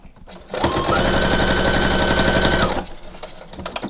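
A sewing machine stitches bias tape onto decorative fabric bunting in one loud, steady, rapid mechanical run of about two seconds. Quieter handling noises come before and after it.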